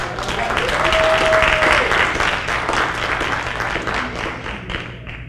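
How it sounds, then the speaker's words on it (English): An audience at the Lakeland MLK oratorical contest applauds elementary students in a lively round of clapping that swells, then gradually thins and fades, with a brief tonal hum and faint voices underneath. "let's give our elementary students another round of applause"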